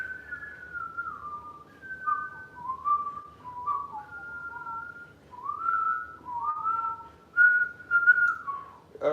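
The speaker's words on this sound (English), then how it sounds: "this is not a whistling podcast" A person whistles a wandering, melodic tune with short phrases and brief pauses, fairly close and clear, with no talking.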